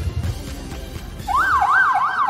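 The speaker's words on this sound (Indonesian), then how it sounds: "Mengenang detik-detik proklamasi ditandai dengan membunyikan sirine selama 60 detik." A commemorative siren at an Indonesian Independence Day ceremony wails, rising and falling in steady cycles for 60 seconds, starting partway in and holding loud over a low background rumble.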